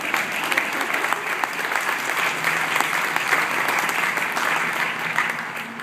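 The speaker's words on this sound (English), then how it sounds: "y'all can clap on that if you want to." Sustained audience applause at a political rally launching a campaign in Hawaii, dense and steady for about six seconds with a few faint voices mixed in.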